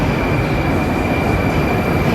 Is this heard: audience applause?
no